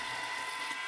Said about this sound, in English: I'll drill a 6mm hole through the part